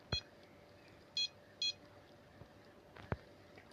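Three short electronic beeps from a fishing bite alarm in the video game Fishing Planet sound at a steady pace, mixed with a few sharp clicks, over a quiet background hum.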